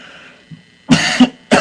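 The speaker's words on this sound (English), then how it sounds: "I hate having sinus coughs." A person with a sinus cold coughs: two close, harsh coughs in the middle and another starting at the end, loud and near, with only faint breathing before them.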